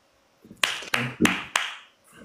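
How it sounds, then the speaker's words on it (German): Four sharp, close hand claps in a quick, uneven series during a live streamed show, with a faint voice in the background. "Leute, jeder soll klatschen"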